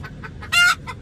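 A chicken shut inside a car gives a few short, close clucks, broken by one louder, drawn-out squawk in the middle.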